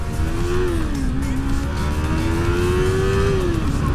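A small, light beginner motorcycle revs steadily and loudly at close range. The engine pitch rises, dips, then climbs and falls again over a continuous drone, with no talk.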